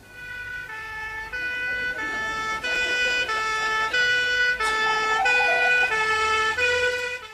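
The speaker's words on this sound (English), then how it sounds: "I'll send a police car around right away." A police car siren wails in a loud, steady, alternating two-tone pattern, the pitch switching back and forth about every half second, with no talking over it.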